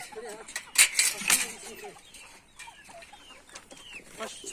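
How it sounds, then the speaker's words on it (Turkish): Roosters and hens on a Turkish village farm, a few clucks and short calls near and mid-distance with a louder burst early on, over faint background chatter. "tekrar size göstereyim şu horozlarımı canlarım"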